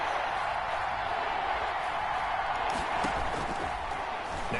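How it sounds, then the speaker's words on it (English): A football stadium crowd roars steadily before a big third down in a Bears game, a dense, continuous wall of cheering and noise from a large distant audience, with no clear break. "The crowd getting into it as we come up on a big 3rd down."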